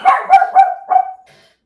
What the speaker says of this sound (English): my dog is going crazy now